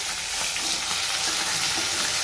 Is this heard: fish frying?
yes